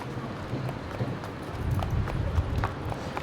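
Horses' hooves clip-clop and shuffle as the animals are led out during unloading after a long flight at an airport arrival, a busy, irregular run of steps at moderate distance with some background noise.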